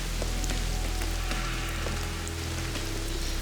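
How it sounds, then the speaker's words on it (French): Steady rain falls on an outdoor island survival camp, a dense even hiss with scattered drop ticks and a low rumble underneath, continuous throughout with no voices. "C'est que la pluie, ça change tout."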